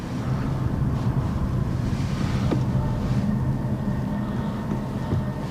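Sea waves wash against a German island shore in a steady, broad rumble mixed with gusting wind buffeting the microphone, continuous and fairly loud with no voices.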